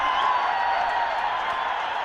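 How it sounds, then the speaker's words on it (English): A cricket crowd at an ACC Men's Premier Cup match between Nepal and Kuwait roars after a wicket falls: a dense, steady wash of cheering and applause that holds at a constant level for about two seconds. "you can hear the roar of the crowd"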